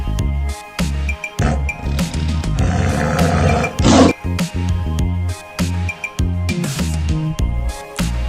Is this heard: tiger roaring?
yes